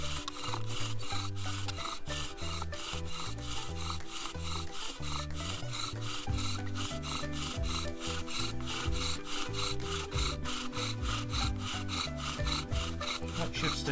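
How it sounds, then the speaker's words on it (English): A bow drill spins a wooden spindle against a wooden board to make fire: steady back-and-forth rubbing of wood on wood, a rhythmic rasping squeak repeating quickly and continuously at close range. "What I'm going to do now is I'm going to start to move the bow"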